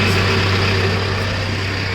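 A 2005 Mitsubishi Fuso refrigerated box truck engine idles steadily, a loud, continuous low rumble with a constant hum and no variation in pitch.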